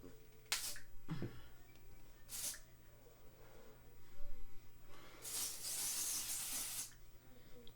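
Short hissing bursts of an aerosol dry texture finishing hair spray, two brief puffs followed by a longer sustained spray, close and fairly loud in a quiet room.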